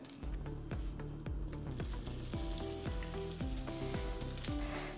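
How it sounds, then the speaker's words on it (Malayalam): Kilikkood (bird's nest snack), a Malabar evening snack, deep-frying in hot oil gives a loud, continuous sizzle and crackle, with repeated soft clinks of a utensil against the pan. "എണ്ണ തിളച്ചിട്ടുണ്ട്. നമുക്കിതിനി വറുത്ത് കോരണം"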